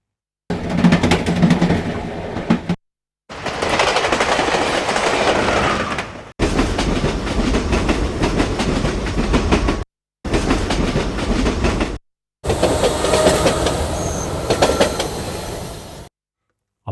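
Recorded train clickety-clack on rails, cut into five separate chunks with short silent gaps between them, loud and close with rhythmic wheel clatter and some squealing hiss.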